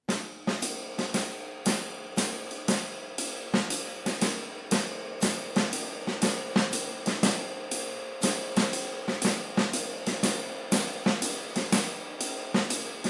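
Drum kit playing a jazz waltz in 3/4 with a syncopated snare line over steady cymbal, heard alone as a close, continuous run of evenly spaced hits.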